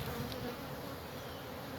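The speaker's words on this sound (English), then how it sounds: "Let me shake these bees off." A steady drone of bees buzzing close by during beekeeping hive work, continuous and even throughout.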